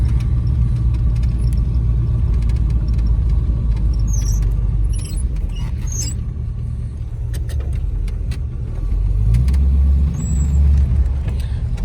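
A 1931 Plymouth P4 street rod's engine rumbles steadily up close, its pitch dropping and rising as the gears change, with faint clicks over the drone.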